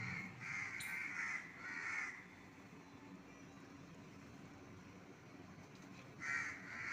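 Outdoors, a crow gives a few harsh caws at a moderate distance, with one more caw near the end. A low background hum continues throughout.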